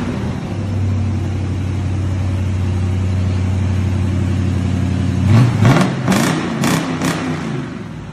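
A fuel-injected fastback car's engine rumbles at a steady low idle, then revs briefly toward the end with a few sharp bursts of noise.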